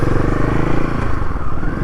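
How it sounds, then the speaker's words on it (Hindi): Nine motorcycles ride in a group along a winding mountain road on the route from Gunji toward Adi Kailash, making a steady, close engine drone that holds throughout without a break. "ये आगे हमारा राइडिंग पैक चलता हुआ, 1 बाइक 2 बाइक 3 बाइक 4 बाइक, मेरी 5 बाइक और मेरे पीछे 4 बाइक और, टोटल 9 बाइक्स।"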